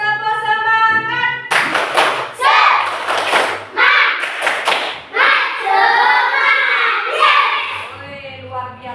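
Classroom of children doing a rhythmic spirit-clapping chant, bursts of loud group claps in patterned beats mixed with chanted voices, with an adult voice before and after.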